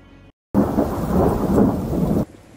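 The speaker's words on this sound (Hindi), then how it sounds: "आखिर एक दिन काले काले बादल आसमान में आए और बारिश होने लग गई।" A thunder-and-rain sound effect for a radio drama: a sudden loud rumble of thunder with steady heavy rain, held for nearly two seconds before cutting off abruptly.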